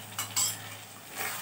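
Spice paste for Bihari chicken is stirred and fried in a pan, with a spoon scraping and clinking against the metal over a steady sizzle, close up and with no voices.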